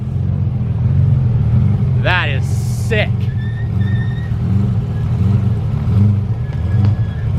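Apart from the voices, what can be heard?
White McLaren F1 supercar driving on the road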